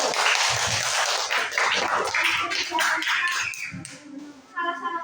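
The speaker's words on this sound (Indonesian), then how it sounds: "Silakan tepuk tangan untuk kelompok 1" A classroom of students claps for a presenting group, a burst of mixed, uneven hand claps that fades toward the end as a voice begins.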